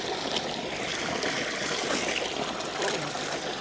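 Water from a natural spring in the Ethiopian countryside flows and trickles steadily nearby, a bright bubbling stream sound with gentle fluctuations and no talking.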